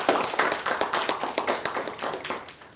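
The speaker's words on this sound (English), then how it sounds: "Let us give a round of applause." Audience applause at a Toastmasters club meeting in Madras, a steady patter of many hands clapping close by, fading slightly toward the end with no voices.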